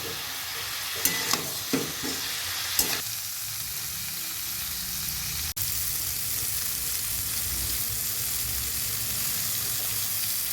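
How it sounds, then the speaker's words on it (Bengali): Spice paste fries with cauliflower and potato for a vegetable curry, giving a continuous close sizzle. Several knocks and scrapes of a spoon against the pan come early, and a sudden sharp click follows midway. Nobody speaks. "ভালো করে মশলাটা কষিয়ে নেব ফুলকপি আলুর সঙ্গে।"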